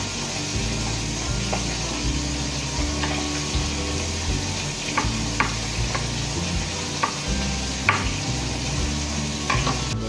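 Galunggong fish fry in a pan with a steady low sizzle, broken by scattered scraping and clinking clicks of a utensil, moderately quiet with no talk.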